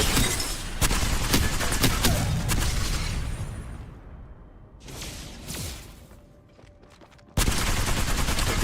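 Bursts of L-Star energy weapon fire in Apex Legends, loud dense automatic volleys with a lull of quieter in-game sounds between them before a final sustained burst.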